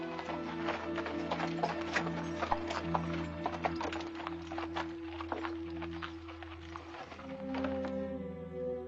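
Horse hooves clip-clopping at a walk in an Old West setting, a steady sequence of sharp knocks over a low hum, fairly quiet, with a faint voice near the end.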